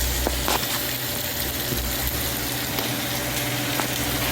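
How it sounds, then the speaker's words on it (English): Corned pork deep-frying in hot oil gives a dense, steady sizzling crackle, close and loud throughout, with occasional pops and no voices. "You just deep fry it now."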